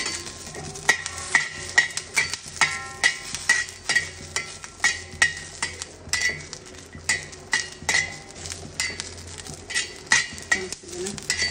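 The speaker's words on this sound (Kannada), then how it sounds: "ಸ್ವಲ್ಪ ಎಣ್ಣೆಯಲ್ಲಿ ಚೆನ್ನಾಗಿ ಫ್ರೈ ಮಾಡ್ತೀನಿ" Green chillies frying in a little oil in a pan, with rapid rhythmic utensil scraping and clinking against the metal over a light sizzle, close and fairly loud.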